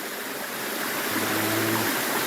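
Stream water rushing over rocks where part of the flow is diverted by a small dam, a steady, close, broadband wash with a faint low hum partway through.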